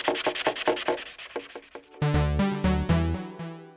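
Brisk rhythmic strokes of 400-grit sandpaper rubbing the corners of a car mirror by hand, a run of quick rasping passes followed by longer, heavier scrubbing strokes up close.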